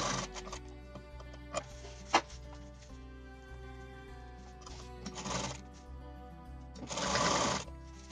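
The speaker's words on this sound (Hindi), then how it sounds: "अब इसके चारों तरफ इसकी स्टिचिंग कर देंगे।" A sewing machine stitches around a folded fabric strip for a grocery bag handle, running quietly in a few short bursts with pauses between.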